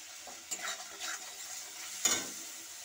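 Fish with mango kasundi being stirred in a hot pan, a few quick scraping strokes over a light sizzle, with one sharper clack of the utensil near the end.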